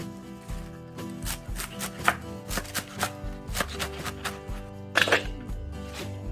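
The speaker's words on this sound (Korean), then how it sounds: "알싸한 홍갓은 4cm 길이로 썰어 줄게요" A knife cuts red mustard greens into 4 cm lengths on a board for kimchi, making a series of crisp, irregular chopping thuds up close, with a quicker cluster near the end.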